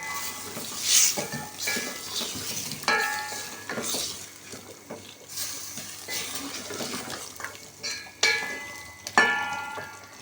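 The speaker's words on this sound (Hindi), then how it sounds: "तमाम चीज़ें डाल के अच्छी तरह से भूनेंगे।" Masala for Pakistani aloo gosht sizzles softly in a pot while a metal spoon scrapes and clinks against the sides in irregular stirring strokes, close up, no talking.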